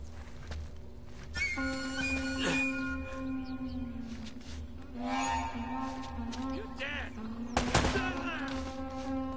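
Gunfire in the video game Uncharted: Drake's Fortune, with bursts of shots under game music and effects, including one sharp loud blast near the end, while a player talks over it.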